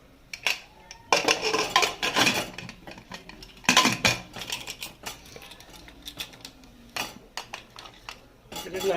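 Metal spoon scraping and clinking against a cooking pot as mutton kosha is stirred, in irregular close bursts of clatter and scraping.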